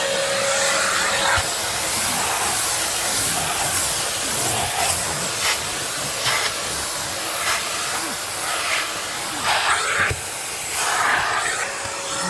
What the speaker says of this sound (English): And I'm going to take my vacuum.